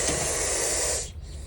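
A Russell's viper, agitated after being harassed by a cat, lets out a loud, steady breathy hiss lasting about a second before it cuts off, leaving quieter background noise.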